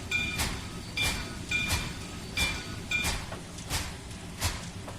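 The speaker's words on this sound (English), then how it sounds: "I like the chuff chuff sound." A steam locomotive in the Trainz 2019 railway simulator chuffs slowly and evenly, about one beat every half second, over a low steady rumble of the running train.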